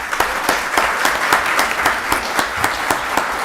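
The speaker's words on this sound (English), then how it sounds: "I know we have to clap for Janetta for her to come on out." Sustained applause from the audience at a county board of commissioners meeting, honoring the Employee of the Year, with dense, steady clapping and slightly sharper bursts throughout, no talking over it.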